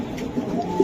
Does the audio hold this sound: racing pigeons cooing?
yes